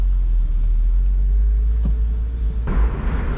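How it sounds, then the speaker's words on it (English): A rebuilt yellow Porsche Boxster convertible's engine rumbles low and steady while driving, with a faint shift in pitch and some wind noise toward the end, close and fairly loud without talking. "First time in my life I'm driving a convertible Porsche."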